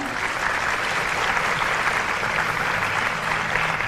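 Enthusiastic applause from an audience of student council leaders in Jakarta, a thick, continuous burst of many hands clapping at close range, steady and unbroken throughout, with no talking over it.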